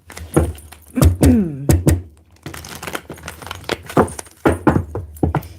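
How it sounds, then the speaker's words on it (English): A deck of cards being shuffled close up, with a run of quick crisp riffling and flicking bursts separated by short pauses, fairly loud and heard alone with no talking. "let's give all these cards a good shuffle before we use them"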